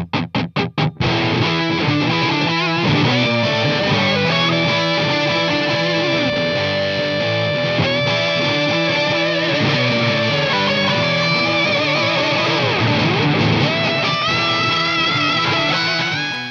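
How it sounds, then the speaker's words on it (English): A heavily distorted electric guitar through a fuzz pedal into an already overdriven amp plays a sustained, smooth, violin-like lead line over a dense, saturated backing, loud and continuous after a few sharp opening hits. "use it to push an already overdriven amp to get incredibly smooth and violin-like lead tones"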